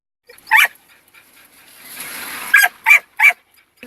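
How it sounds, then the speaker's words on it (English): Dog barking nearby in a few sharp separate barks, with a short soft hiss between them and no talk. "this dog barking"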